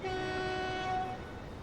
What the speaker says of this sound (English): Then we've got a fuel train.